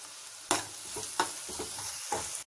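Ginger-garlic paste fries in oil for pav bhaji, a soft close sizzle broken by four or five sharp spatula scrapes and stirs in a steady rhythm, with no voices.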